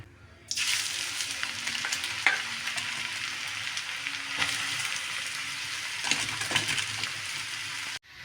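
Grated carrots sizzle and fry steadily in ghee in a pan for carrot halwa, a continuous close crackling hiss with occasional stirring scrapes and brief louder bursts.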